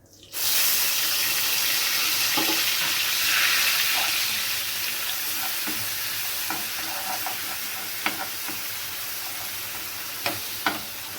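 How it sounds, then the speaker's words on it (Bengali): Onion paste fried in hot oil with spices in a pan, for a spiced hilsa fish dish: a loud, steady sizzle runs throughout, with occasional sharp spatters and stirring scrapes close by, and no talking. "এবার আমি এতে দিয়ে দিচ্ছি পেঁয়াজ বাটা"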